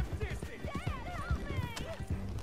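Video game horse sounds: clip-clopping hooves at a steady trot with a rising and falling whinny over them, moderately close and continuous.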